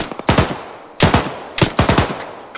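Loud, close bursts of automatic suppressive gunfire arrive as three rapid clusters of sharp shots, separated by brief pauses.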